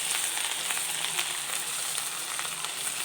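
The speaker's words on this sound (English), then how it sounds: "Now fry it nicely till the raw smell goes off." Spice paste for paneer butter masala fries in a pan, a steady close sizzle with small crackles and pops throughout and no talking.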